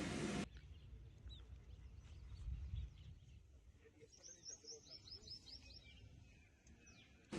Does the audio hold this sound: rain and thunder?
no